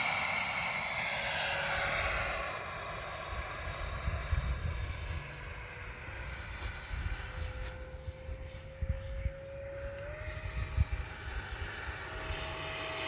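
An E-Flite F-18 Hornet 80mm electric ducted fan model jet whines loudly and steadily on takeoff, its pitch rising as it spools up, with wind buffeting the microphone.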